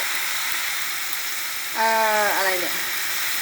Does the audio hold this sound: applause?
no